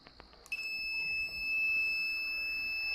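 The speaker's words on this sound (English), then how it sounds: "And that is my relay which activated the buzzer" A door lock system's relay-triggered buzzer sounds a steady, piercing electronic tone that starts abruptly after a couple of faint clicks and holds continuously, loud and close, with no voices.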